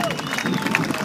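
Airshow crowd cheering and clapping in a broad, steady roar, with a faint aircraft tone passing overhead and some voices mixed in.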